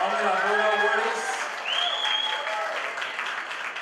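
Audience applause at an awards ceremony honoring community awardees: a dense, steady wash of many hands clapping that holds for several seconds, with a few voices and whistle-like tones riding over it before it tapers slightly.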